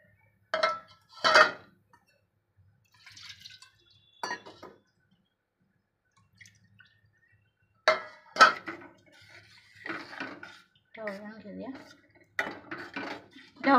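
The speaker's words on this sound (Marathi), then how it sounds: "ढवळून घेऊया आता आपण परत एकदा." Pav bhaji vegetables stirred again in a pan after water goes in, giving a few sharp metallic clanks and scrapes spaced out between quiet stretches, with faint talk near the end.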